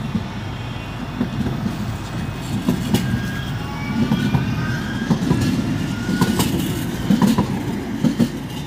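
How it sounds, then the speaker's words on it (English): A tram passes along a city street, its steady low rumble broken by rail clicks and squeals of the wheels on the track, close and fairly loud throughout, with no voices. "Now there's a tram."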